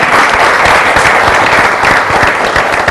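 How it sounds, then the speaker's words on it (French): A studio audience at a televised French-language charity show claps steadily, dense continuous applause filling the space with no voices on top. "Merci de les applaudir encore, chers amis"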